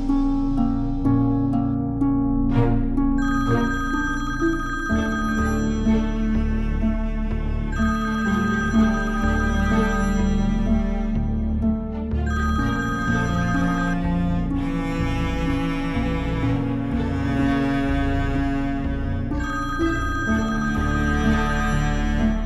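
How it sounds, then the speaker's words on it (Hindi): Telephone ringing unanswered in a Pakistani drama scene, a repeated electronic ring pattern with bursts at steady intervals, sounding continuously over a sustained musical score with no voices. "ये फोन क्यों नहीं उठा रही?"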